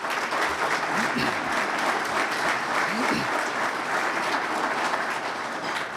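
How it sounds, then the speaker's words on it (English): A breakfast audience in a university hall gives a sustained round of applause for catering partners, steady and loud throughout, with a few voices calling out underneath. "Let's give them a round of applause."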